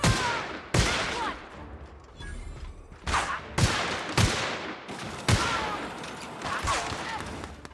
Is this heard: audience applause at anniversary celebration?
no